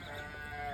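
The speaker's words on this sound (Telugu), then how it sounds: "మా గొర్రెలండి అన్నీ కలిసి" Sheep and goats in a mixed farm flock, a steady blend of bleats and animal sounds at moderate loudness, with no talking.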